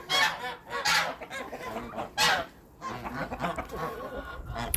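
Loud, harsh goose honks burst out several times in irregular succession, close by, with quieter cackling and barnyard noise between calls.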